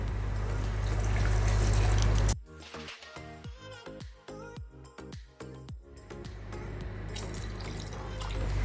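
A gushing rush of water stops abruptly, followed by a run of gurgling, glugging pours of cold water into a grinder jar holding cashews and melon seeds, then a steadier flow of water resumes.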